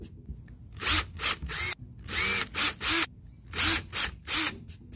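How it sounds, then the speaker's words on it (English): Power drill boring holes in a wooden board: repeated short whirring bursts of about a second each, separated by brief pauses, loud and close with no talk. "So now that we got our holes drilled,"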